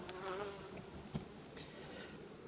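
Honeybees buzzing steadily at beehives in an Uzbek apiary, a continuous dense drone with a brief louder pass near the middle, no talk.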